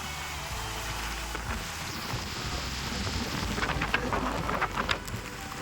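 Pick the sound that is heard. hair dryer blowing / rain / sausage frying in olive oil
rain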